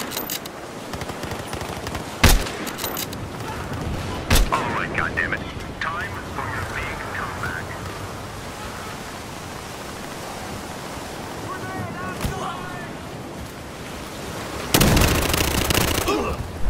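Sniper rifle shots in Battlefield Hardline, a few sharp, loud single cracks spaced several seconds apart over constant battlefield noise, with a voice talking between them.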